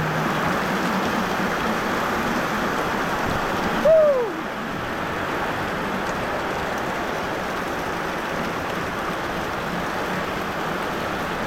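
Steady rain falls outdoors in a rural setting, a dense even patter that continues throughout, with a brief louder knock and whine partway through.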